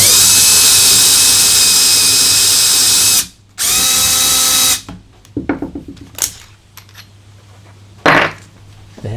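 A power drill bores a hole through the metal rib of a Ram ProMaster van for a rivnut, running loud and steady for about three seconds, pausing briefly, then drilling again before scattered clinks and rattles of tools.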